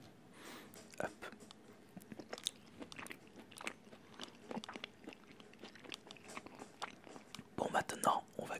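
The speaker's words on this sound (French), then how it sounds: "Avec une petite carotte et un petit morceau de poulet si j'y arrive." Cooked rice with a piece of carrot and chicken is bitten and chewed right at the microphone, giving a steady run of close, crisp crunches and wet chewing, with soft whispering in between.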